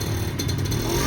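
A motorcycle being ridden, its engine droning steadily at close range with a slight rise and clatter, the sound continuous and fairly loud throughout the short stretch, without any voices.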